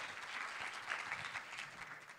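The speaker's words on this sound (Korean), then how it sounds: "큰 박수로 부탁드리겠습니다" Steady applause from a conference audience welcoming a speaker, a dense continuous patter of clapping that holds evenly throughout.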